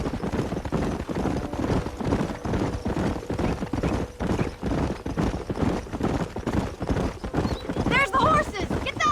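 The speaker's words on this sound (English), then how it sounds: "There's the horses!" Horses in the video game Red Dead Redemption trot with steady clip-clopping hooves, and a whinny rises near the end; voices talk throughout.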